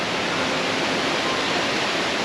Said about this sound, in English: look at that water behind me